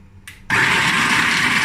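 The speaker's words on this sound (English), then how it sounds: "Walnuts and fresh garlic I will crush in blender." A kitchen blender roars up to full speed, crushing walnuts with fresh garlic for Georgian beetroot pkhali, preceded by a brief whir; the motor drones loud and steady with no talk.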